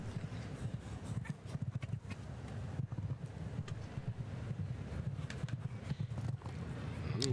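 Rapid rhythmic thudding of a Thoroughbred-type show jumping horse's hooves galloping over ground at CHIO Aachen, steady and fairly close, with wind buffeting the microphone.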